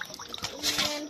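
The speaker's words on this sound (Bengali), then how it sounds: "জল দিয়ে ভালো করে ধুয়ে নেব।" Potatoes are washed in water in a village kitchen, giving a short burst of splashing and sloshing close by.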